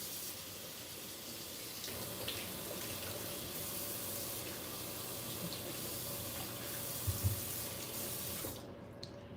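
Tap water runs steadily over sweet potatoes being rinsed in a sink, a constant close splashing rush with small bumps of handling, cut off abruptly near the end.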